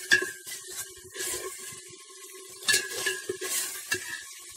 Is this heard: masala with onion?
yes